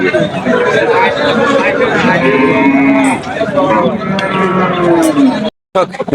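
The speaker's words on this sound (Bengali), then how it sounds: "এটা হইতেছে সিন্ধি সাথে ক্রস গরু" Sindhi cross cows at a traditional cattle market in Nalitabari low and moo in long, loud calls close by, amid a busy crowd of chattering buyers and sellers.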